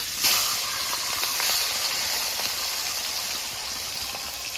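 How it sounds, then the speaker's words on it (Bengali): A large fish head, nearly done, fries in hot oil with a continuous close sizzling hiss and faint crackles, steady and even with no talking. "মাছের মাথাটা প্রায় ভাজা হয়ে গেছে"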